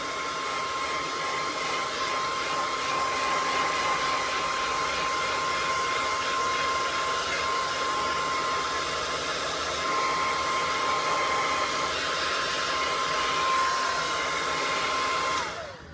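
A heat blower runs continuously while warming the plastic headliner of a Volvo 245, a steady close whooshing roar with a faint whine that holds for the whole stretch before cutting off at the end, with no talking.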